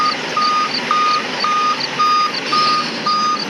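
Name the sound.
bus reversing beeps in a bus simulator video game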